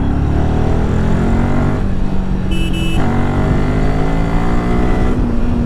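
A Royal Enfield Himalayan 450 adventure motorcycle's engine revs and pulls through the gears, the pitch climbing and then dropping at each shift, loud and close throughout.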